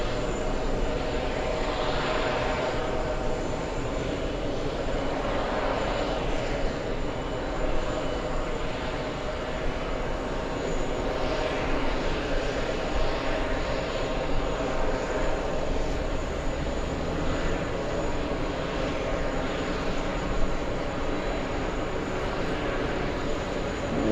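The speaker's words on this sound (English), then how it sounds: "This is the American heading to London, American 106" An American Airlines jet on flight 106 to London roars steadily at JFK, a broad continuous engine rumble and hiss lasting throughout without pause or talking.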